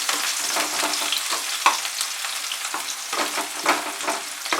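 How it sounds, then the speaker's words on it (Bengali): Chopped onion frying steadily in a pan, a dense continuous sizzle with occasional brief clicks and pops of stirring, close and fairly loud with no talking. "পেঁয়াজটাকে কিন্তু খুব ভালো করে ভাজবো।"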